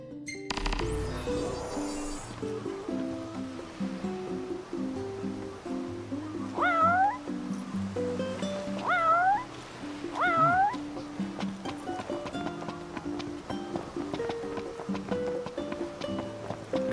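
A cat meows several times in Final Fantasy XV, rising and falling calls over busy game music and ambient background, moderately close and clear.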